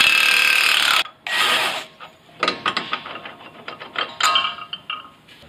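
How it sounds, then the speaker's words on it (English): A ratchet wrench with a 15 mm box end working on strut bolts of a 2021 Ford Bronco during a lift kit install, a clicking ratcheting burst up close followed by irregular metallic clicks and taps, no talking. "So we're gonna use a 15 millimeter box end wrench here, ratchet wrench."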